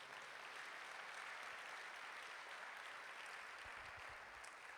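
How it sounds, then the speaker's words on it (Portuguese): Church congregation applauding during a family worship service, a soft, distant, even patter of clapping that continues without break, faint and reverberant. "Quem recebe isso, dá um aplauso aí a Jesus."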